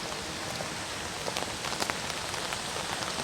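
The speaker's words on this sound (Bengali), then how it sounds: "অনেক মানে বৃষ্টি বর্ষা এরকম বিদ্যুৎ চমকাচ্ছে।" Rain keeps pouring on a jungle nature trail during a thunderstorm, a dense, even hiss of drops on foliage with scattered louder splats close by, steady throughout and with no voices.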